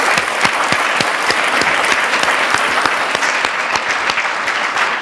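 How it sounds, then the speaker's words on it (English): Steady, loud applause from an audience at the close of a public health panel honoring Dr. Torrance, dense clapping filling the whole stretch with sharp individual claps standing out near the front. "A round of applause for Dr."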